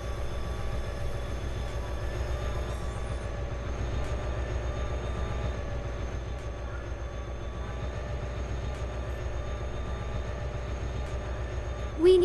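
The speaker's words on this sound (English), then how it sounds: "Push the lever upward to move the train forward." A steady rumbling train drone from an Indian train simulation video game, with a low rhythmic rattle and faint tonal hum, continues unchanged throughout, ending with a brief louder blip.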